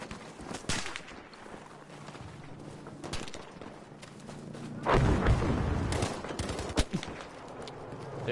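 Sniper gunfire in an online shooter game: a few sharp, loud gunshot cracks spaced irregularly over a steady in-game background rumble, with one heavier burst partway through.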